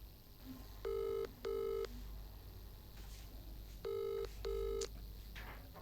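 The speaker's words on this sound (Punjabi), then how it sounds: "ਰਿੰਗ ਲਗਾਤਾਰ ਜਾ ਰਹੀ ਹੈ" An outgoing phone call rings on the line: two pairs of electronic ring tones, each pair a quick double burst, separated by a quiet hissy gap of a couple of seconds.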